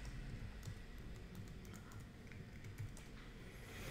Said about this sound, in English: so I'm just gonna type it in.